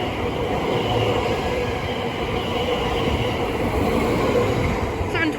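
Greater Anglia Class 720 electric train passing through Bethnal Green station, a steady loud rumbling roar of wheels and motors that holds level throughout without letting up.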